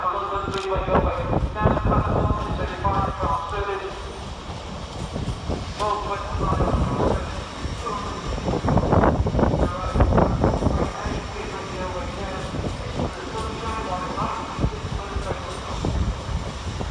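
LNER passenger train from York to London King's Cross pulling into Doncaster station, a loud, continuous rumble of engine and rolling wheels with surging roar and wind buffeting, a voice talking over it.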